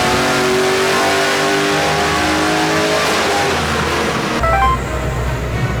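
A cammed V8 ute revs hard on a dyno, its engine note climbing steadily at full load and close to the microphone, then dropping sharply to a lumpy idle near the end. No one speaks over it.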